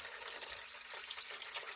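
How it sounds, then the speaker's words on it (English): Water from a furnace humidifier valve pours steadily into the humidifier pan, a continuous broadband splashing rush at close range with no voices. "the water valve is on, and it's dumping water"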